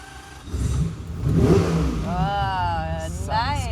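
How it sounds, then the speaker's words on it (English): A Ferrari 250 GT SWB Competizione with its 3-liter Colombo engine fires up and revs close by, the engine rising and falling in a couple of throttle blips, with people talking. "So it's like a 3-liter Colombo engine."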